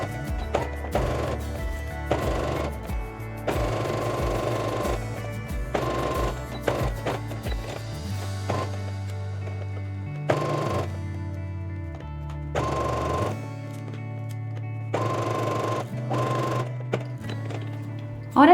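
A sewing machine running a 2.5 straight stitch on a wrap blouse: rapid, steady mechanical whirring in several bursts with short pauses, close and clear.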